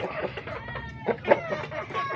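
Pet chickens clucking close by, a few short, uneven clucks and squawks mixed with background farmyard noise.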